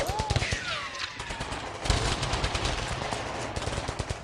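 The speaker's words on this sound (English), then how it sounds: "what's with all the gunfire everywhere?" Rapid bursts of automatic gunfire crackle nonstop, with overlapping shots and sharp reports forming a dense, chaotic barrage throughout, in the steampunk video game Tyrania.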